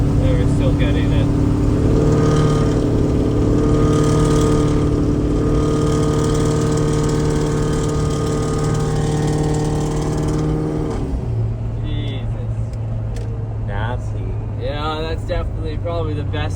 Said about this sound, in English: Definitely probably the best sounding diesel I've ever heard